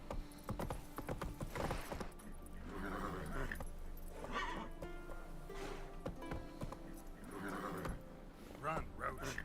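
Hooves of the horse Roach galloping in the video game The Witcher 3, a steady clip-clop rhythm running through most of the stretch, mixed with game sounds while someone talks over it.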